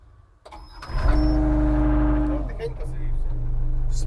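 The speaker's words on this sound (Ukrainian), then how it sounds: "Все, клема є, зараз будемо заводити." A heavy diesel engine of a Caterpillar CAT 305 SR tracked excavator cranks and catches, roaring up loudly and then settling into a deep, steady idle close by.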